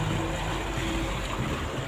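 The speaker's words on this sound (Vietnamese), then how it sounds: "ngày hôm nay sóng vỗ thì đầm nhẹ nhẹ" Waves lap gently around four boats moored on dark water at night, a soft continuous washing murmur with low rumble and no voices.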